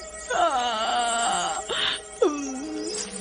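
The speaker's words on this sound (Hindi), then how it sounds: "लिफ्ट में किसी के रोने की आवाज आने लगती है।" A ghostly crying effect echoes inside a haunted lift: long wavering wails and moans rising and falling in pitch, loud and eerie, broken by a brief pause before another sliding cry.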